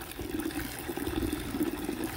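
Hot water gushing at full flow from the outlet hose of a homemade solar heater on an Intex Summer Waves above-ground pool, a steady close splashing stream with no talk.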